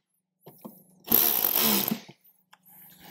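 A bolt is tightened on a speaker mount of a 2021-or-later Harley-Davidson CVO. A few light clicks come first, then a close, loud one-second burst of a power tool whirring, and a couple of faint taps after it.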